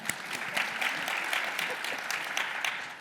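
A short burst of applause from a small crowd, steady clapping that holds for a few seconds before easing slightly.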